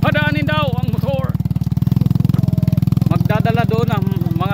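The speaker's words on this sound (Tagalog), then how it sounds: "Padaanin daw ang motor." A motorcycle idles and rumbles close by on an off-road trail during an ATV outing, a steady, throbbing engine running under people talking.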